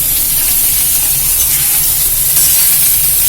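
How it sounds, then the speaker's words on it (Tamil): Ingredients for a bitter gourd and field bean curry fry slowly in oil over a low flame, a steady close hiss and sizzle with faint stirring, no voices. "அதனால எண்ணெயில் நிதானமாக கூட தீய வச்சுட்டு நல்லா பொறுமையாக நம்ம வறுத்துக்கலாம்."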